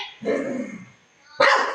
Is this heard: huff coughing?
no